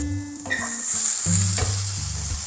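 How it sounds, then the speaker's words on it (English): Onions stir-frying over a high flame for a water spinach stir fry, with a steady bright sizzle and scraping stirs against the pan, close and loud with no voices. "Keep the flame high, but still make sure that your onions is not burnt."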